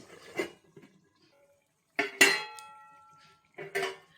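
A lid goes onto a cooking pot of curd and pointed gourd with potato, making a few sharp metallic clanks and scrapes separated by quiet gaps.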